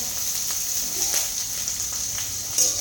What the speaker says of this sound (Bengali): পেঁয়াজ কুচিটা দিয়ে একটু নাড়াচাড়া করে নেবো